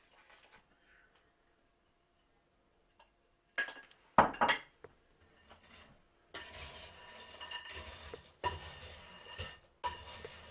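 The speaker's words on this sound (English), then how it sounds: "Mix it really well." Rotini pasta being mixed with a spice mixture in a pan: silence at first, then clinking utensil hits and scraping stir strokes, followed by steady sizzling with repeated stirring.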